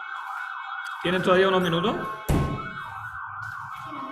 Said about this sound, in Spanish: se escucha muy fuerte la sirena